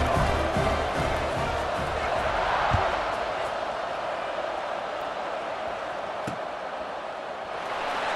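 A football stadium crowd at a college game roars steadily just before a kickoff after a touchdown, a dense, continuous wall of cheering and noise from many voices at a distance.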